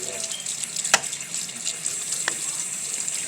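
Warm tap water running into a sink to wet the face, a steady, soft hiss of flowing water close by, with a couple of brief splashes as hands move through the stream.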